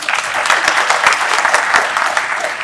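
A conference audience at an IEEE event claps steadily for a few seconds, a dense, even round of applause without a voice over it.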